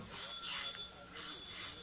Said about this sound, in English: the front doorbell rang